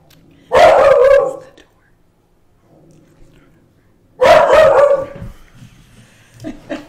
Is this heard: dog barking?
yes